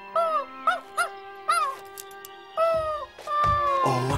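In a cartoon, a small dog lets out a string of high, quavering whimpers and whines, short pitched yelps in an uneven rhythm, close and clear, ending in a longer drawn-out cry.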